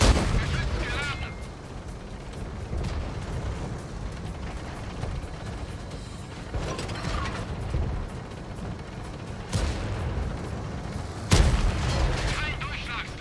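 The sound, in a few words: tank cannon firing in a video game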